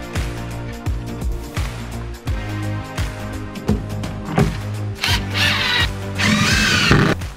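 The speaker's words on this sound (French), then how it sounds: "il suffit de dévisser 2 vis, 3 vis" Power screwdriver unscrewing screws to release a climbing hangboard, a whirring motor in short repeated bursts close by, rising to longer, louder runs toward the end.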